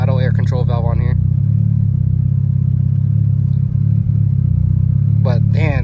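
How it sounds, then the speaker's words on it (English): Car fitted with a Burton Racing cop kit idling with no idle air control valve, a steady loud low engine drone throughout, with someone talking over it at the start and end. "the idle is going to be a little bit jumpy, like I said, just because we don't have an idle air control valve on here"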